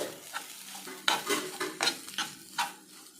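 An egg stirred into vegetable masala frying in a pan, repeated close scraping strokes of a spoon against the pan over a light sizzle, with no talking.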